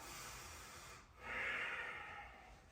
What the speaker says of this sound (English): Practice slow breathing into the nose,